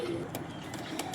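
A Lalpari male pigeon coos softly and close, a low murmuring call held over a faint background hiss, with a couple of brief sharper clicks.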